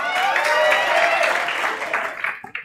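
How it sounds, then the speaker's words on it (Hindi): Applause from students at a CA Foundation law lecture, a dense wash of clapping lasting a couple of seconds, mixed with a voice and cheering, fading out at the end. "एक बार जोरदार तालियां"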